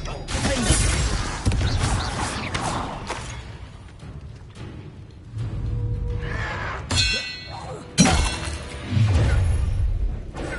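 The Expelliarmus spell is cast in Hogwarts Legacy during a duel, with clanging impacts, crashes and bright magical bursts over busy combat sound, loudest in sharp hits late on.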